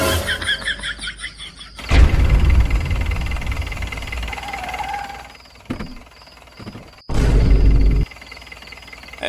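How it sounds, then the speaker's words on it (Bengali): At night, a car engine bursts into low rumbling roars, first sustained for a few seconds, then cutting off, then briefly revving again a little later against a quiet background. "এত রাতে গাড়ির আওয়াজ কিসের?"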